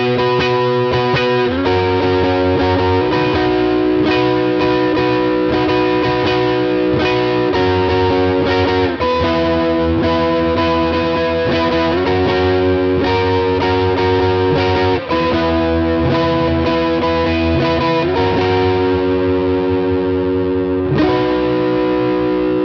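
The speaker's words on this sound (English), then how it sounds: "So I kick on my Foxpedal Kingdom Clone Overdrive." An electric guitar on both pickups runs through a Foxpedal Kingdom Clone Overdrive pedal, giving loud, sustained, mildly driven chords and riffs that play steadily throughout.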